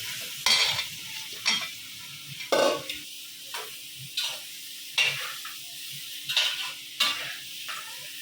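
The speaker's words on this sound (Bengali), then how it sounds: "এই যে ভাত দিয়ে পেঁপেগুলো আমি এখন ভালোভাবে কষাই নেব" Papaya pieces stir-fried with masala and rice in a pan for a Bangladeshi hilsa fish dish, with steady sizzling broken by about ten sharp scraping strokes of a spatula at an even rhythm, close and clear.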